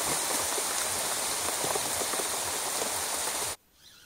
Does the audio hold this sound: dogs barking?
no